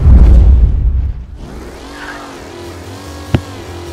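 A car engine in the video game Mafia Definitive Edition revs loudly at first, then drops to a steadier, quieter drive with a sharp knock near the end.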